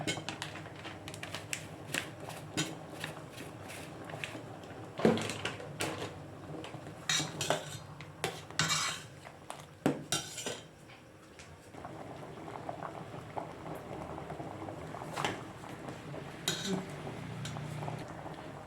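A spoon stirs sambar in a metal pot, giving irregular scraping clinks against the sides and the soft bubbling of simmering liquid, close-up and without talk.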